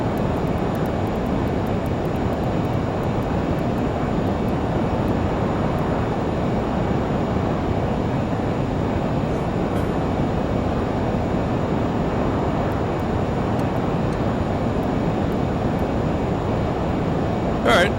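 A Learjet 35A's jet engines in a flight simulator climb with a steady, broad roar that holds constant throughout, while a voice talks intermittently over it.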